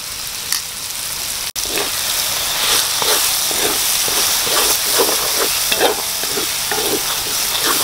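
Mixed curry paste fries in hot oil in a pan while preparing a coconut curry of kaloi fish, a dense, steady sizzle close up, with stirring scrapes rising and falling throughout.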